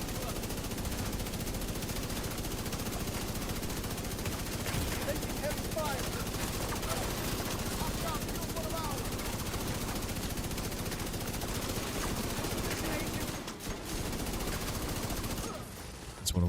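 Sustained LMG gunfire in The Division 2 shooter game, dense rapid bursts running almost without pause, loud and close, briefly cutting out near the end, with a voice faintly under the shots.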